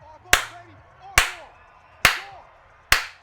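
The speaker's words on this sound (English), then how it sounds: "Super loud clap." Four loud, sharp hand claps ring out close by at an even, slow pace, each with a brief echoing tail, with a voice murmuring faintly between them.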